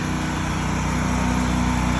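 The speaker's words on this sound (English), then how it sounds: "Machine's running on this side of the property" A soft-washing rig's engine runs steadily while a commercial property is sprayed with a dual-port injector, giving a loud, close, continuous motor drone with no pauses or speech.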